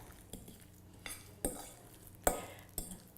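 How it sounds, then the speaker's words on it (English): Spoon or utensil stirring meatloaf ingredients together in a microwave-safe mug, a handful of sharp scraping clinks spaced irregularly over a quiet background, close and fairly soft, with no talking. "so I'm just gonna mix everything all together."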